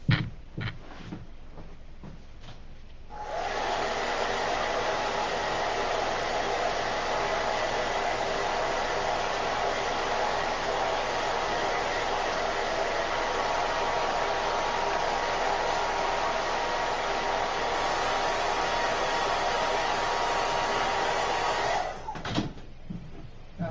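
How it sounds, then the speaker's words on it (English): A hair dryer runs steadily for about twenty seconds, drying black ink on a chalk and ink craft piece, a loud constant airy roar that starts and stops abruptly with faint handling noises around it. "I'm going to take my dryer and I'm going to be right back. I'm going to dry the black family on there"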